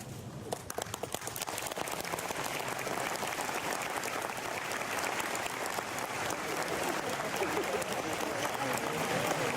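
Loud, dense applause from a crowd at an outdoor civic ceremony unveiling the flag of Villa Ángela on the town's anniversary, a steady wash of clapping that runs unbroken from start to finish.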